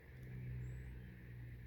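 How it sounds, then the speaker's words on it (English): A car on a road approaching, heard as a low, steady engine rumble and tire drone that stays fairly faint and continuous throughout. "There's a car coming up here."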